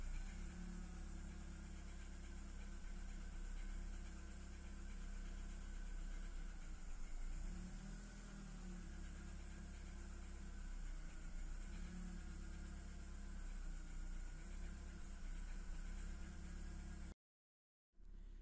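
A BMW E36 with a head gasket fault idles steadily, giving a low, even engine hum with a faint whine on top, heard alone up close before a sudden brief dropout near the end.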